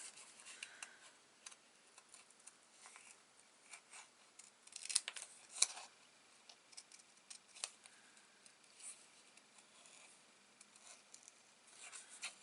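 Scissors snip paper in fussy cutting for a Christmas card, giving faint, irregular small clicks and crisp snips with a few louder cuts, close and quiet with no talking.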